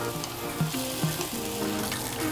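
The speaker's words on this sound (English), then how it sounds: "Pu Pad Pong Curry is stir-fried crab with the curry powder." Crab stir-fried with curry powder in a hot pan for Thai pu pad pong curry, a steady sizzle broken by a few scraping stirs, close and fairly loud with no talking.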